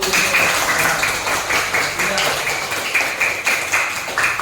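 A classroom of students claps for a presenting group in a steady, fairly loud patter of hands that continues throughout.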